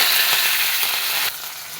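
Mustard seeds, garlic and curry leaves hit a little hot oil for a kappa (tapioca) curry, giving a loud, dense close-up sizzle with faint popping that drops slightly in level near the end.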